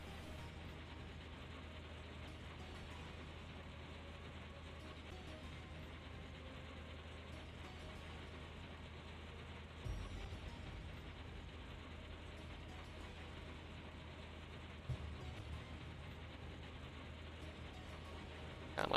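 A combine harvesting potatoes in Professional Farmer 2014 with the American DLC, a steady low mechanical hum with rattling ratchet-like clatter throughout, faint and continuous, with a couple of slight bumps.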